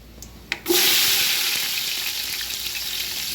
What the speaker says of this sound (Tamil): வெங்காயம் நல்லா வதங்கட்டும், கிண்டி விட்ருக்காங்க.